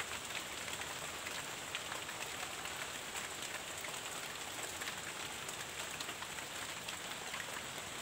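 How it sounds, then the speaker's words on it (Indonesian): Steady rain pattering on a surface, a dense continuous hiss with scattered drop impacts throughout and no voices. "berteduh dulu ya, hujan."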